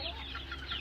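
Barred Rock roosters, Opal Crested Legbar hens and other chickens cluck in a poultry greenhouse tunnel. Soft, overlapping clucks and calls form a steady, close, low-level background with no talking.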